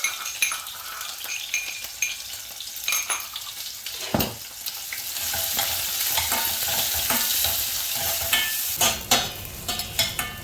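Chilli, onion and ginger paste frying in a pan for palak rice: a continuous close sizzle broken by scraping stir strokes and occasional metallic clinks of the spoon against the pan.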